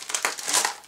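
Crinkly wrapping around a Christmas gift being pulled open, a short bright rustle and crackle of paper heard up close.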